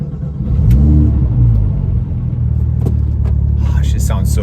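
Porsche 996 GT3 engine revs and rumbles while driving, heard loud and near from inside the car, with the pitch swelling early and then holding a steady, throaty drone.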